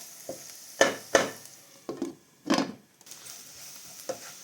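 Spice powder for a mango curry is stirred and fried in a pan, giving a few separate scraping, sizzling strokes at irregular intervals, fairly quiet and without any voices.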